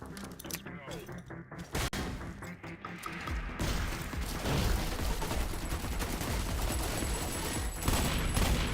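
Rapid SMG bursts and grenade blasts in a first-person shooter game, dense, loud continuous gunfire with booming explosions layered throughout a hectic firefight.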